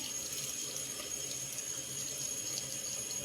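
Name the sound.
water running while rinsing cream off skin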